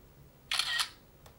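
A BlackView A80 phone camera fires a single crisp electronic shutter click as a selfie is taken, close and clear in a quiet room, followed by a faint tick.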